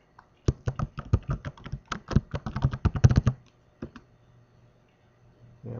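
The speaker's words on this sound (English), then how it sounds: "Well, we'll just type it very quietly." Quiet typing on a computer keyboard: a quick run of light key clicks for about three seconds, then a couple of isolated taps before a faint hum, with no talking.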